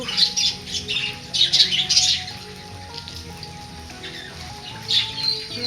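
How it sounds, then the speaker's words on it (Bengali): Birds in the Sundarbans squawk and chirp in bright bursts that come in clusters, with a soft continuous background between the calls. "পাখি কিচিমিচি শব্দ"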